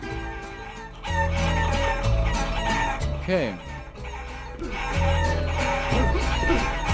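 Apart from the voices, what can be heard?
chicken clucking in the video game Guacamelee!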